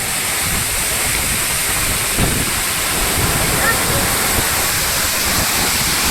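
Kattikayam waterfall in Kerala pours in a steady, loud broadband roar of falling water that fills the whole clip, with no voices over it.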